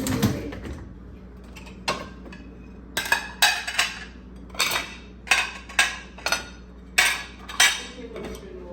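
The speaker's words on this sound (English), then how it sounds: "I'm about to put these dishes up that are in the dishwasher" Dishes, cutlery and glassware clatter and clink in a string of sharp, close knocks and rattles as a dishwasher is unloaded in a home kitchen, with short pauses between handfuls.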